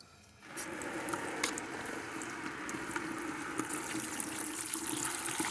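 Tap water runs steadily into a container inside a combined holiday home, car and boat vehicle, starting after a brief quiet moment and continuing as an even wet splashing stream, close and moderately quiet.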